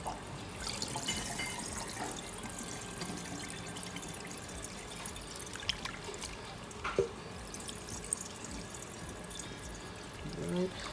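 Salt water brine drains from raw chicken breasts, a continuous soft pouring trickle with occasional drips and small clatters, close and fairly quiet with no talk.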